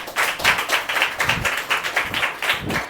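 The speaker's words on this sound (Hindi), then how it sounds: "मैं चाहती हूँ एक बार जोरदार तालियां हो जाए" An audience at a small gathering claps in a loose rhythm, the distinct hand claps rising and falling in uneven bursts, moderately near and unaccompanied by talk.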